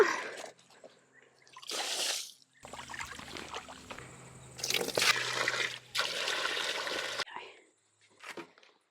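Water poured to refill the ducks' drinker on a permaculture farm, heard as several separate splashing, trickling bursts close by, with quiet gaps between pours.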